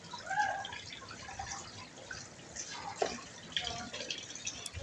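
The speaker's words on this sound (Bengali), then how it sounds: "রান্না শেষে এখন এগুলো ধুয়ে রাখছি" Dishes and cookware are washed with water after cooking, with soft running water, drips and light clinks close by at low volume, with no clear talk.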